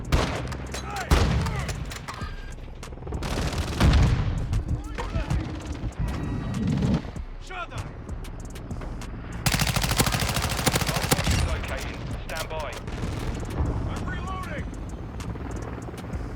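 Suppressed Honey Badger (Chimera) rifle fire in Call of Duty: Modern Warfare: bursts of muffled shots come in several clusters over a noisy firefight, with someone talking over much of it.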